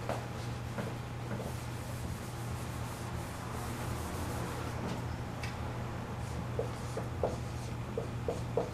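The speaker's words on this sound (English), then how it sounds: "Let me erase the board." A board being erased during a math lesson, a faint continuous rubbing and scraping close by with a few light taps near the end and no talk.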